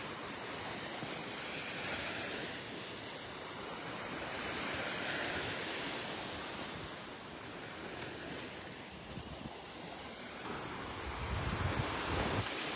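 Surf washes steadily onto a beach in north Naples, Florida, near Vanderbilt Beach, a broad continuous roar with wind buffeting the microphone and a swell of heavier breaking toward the end.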